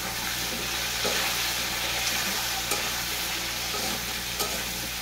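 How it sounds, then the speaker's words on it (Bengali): Potatoes with salt are stirred in a frying pan, giving a constant close sizzle with scattered scraping and clacking of the spatula against the pan. "দিয়ে আমি আলুটাকে এভাবে নেড়ে চেড়ে নেবো"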